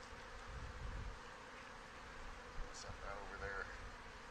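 Honey bees hum in a soft, continuous drone around an open hive being checked for honey after a swarm, with a brief bit of quiet speech near the hive.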